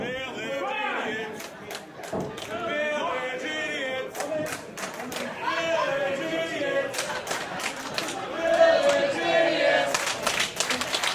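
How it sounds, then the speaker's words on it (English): Wrestling event crowd reacting against a tag team, an arena audience murmuring, shouting and clapping beneath steady commentary, with occasional thuds from the ring. "Crowd not taking kindly to Mutually Assured Destruction."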